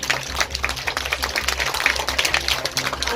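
An audience at an Independence Day celebration at BLS International School in Hathras claps for the contest winners, a dense, steady patter of hands over a low background hum.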